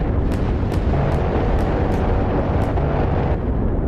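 The deck gun of a Type 071 Yuzhao amphibious transport ship fires in DCS World: about seven sharp booms in an even, rapid rhythm over a loud, rumbling engine-like background.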